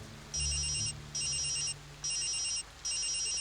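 A phone rings from inside a medical bag in a steady repeating pattern of four bright electronic ring bursts with short gaps, over a low background hum.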